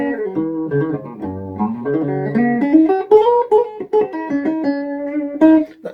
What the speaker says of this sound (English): That's the sound of the raw power of the Crazy Jack 9-volt battery amp